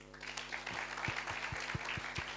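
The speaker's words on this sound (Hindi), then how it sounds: "सो एक बार खुद के लिए जोरदार तालियां।" Audience at a motivational business talk giving applause, heard as quiet, somewhat distant clapping with a few distinct sharp claps standing out over a low steady hum.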